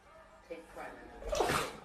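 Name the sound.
pet sneezing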